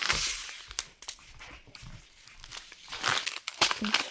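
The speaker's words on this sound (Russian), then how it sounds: "Взяла два пакетика." Sachets of citric acid crinkle and rustle as they are handled in a village house kitchen, with several close, irregular crackling bursts and a few sharper tearing-like rustles.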